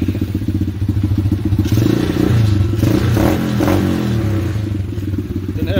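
A 125cc pit bike fitted with a PZ-20 carburetor runs loud and close, its uneven, rattling idle broken by quick throttle blips and clattering mechanical noise.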